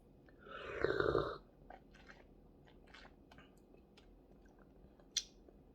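Someone sips and chews strawberry soy milk with bits of strawberry, making a close slurp followed by soft, scattered wet chewing sounds and one brief click, with no talking.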